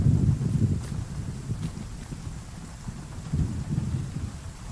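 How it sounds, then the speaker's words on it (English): Video game thunderstorm: constant rain hiss with deep rolling thunder rumbles swelling at the start and again near the end, fairly loud and without speech. "the rumblies of the thunder."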